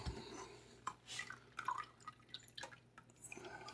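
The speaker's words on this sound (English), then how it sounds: "and I pour it through the strainer." Leek broth poured through a strainer, falling as a quiet run of scattered drips and small splashes, faint and close, with no voices.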